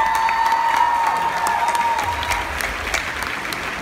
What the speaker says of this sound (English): Give Ed a big round of applause.